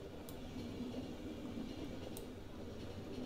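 Train riding in the video game The Final Station: a steady low rumble of a moving train carriage, continuous and moderately quiet, with a couple of faint brief high clicks.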